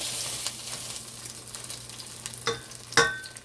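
Saltfish cod fritters fry in hot oil with a loud, continuous close sizzle, punctuated by a few sharper crackles and spatters near the end, with no one speaking.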